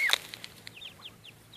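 A Muscovy duck hen calls her ducklings outdoors on a walk, one sharp close call followed by a series of soft, brief peeping notes.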